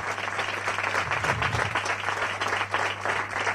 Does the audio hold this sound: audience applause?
yes